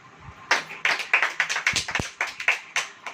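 Church congregation clapping during a sermon, a rhythmic series of sharp, loud claps in a steady beat, fairly close and with no talk over it.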